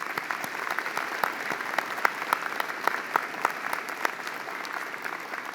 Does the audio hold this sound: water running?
no